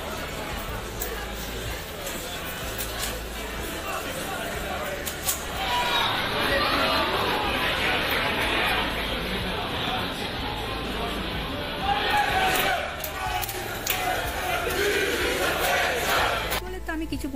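Crowded bars packed with people watching a football match, a dense roar of crowd chatter and cheering that swells louder midway and again near the end.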